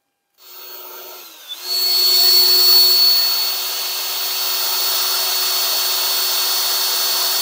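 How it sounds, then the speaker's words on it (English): An electric drill whirs up to speed and bores steadily into a Ford Model T part, its high motor whine holding, then settling into a continuous grinding drone, close and loud. "So I'm going to now set to drilling these out carefully,"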